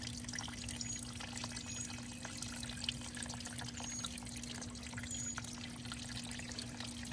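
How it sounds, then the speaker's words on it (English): Coolant drains from a V-Rod motorcycle during water pump removal, a soft, continuous trickle and pour of liquid with a steady low hum beneath it, faint and even throughout. "I'm just gonna let it drain out like this so it slows down the pressure a little bit."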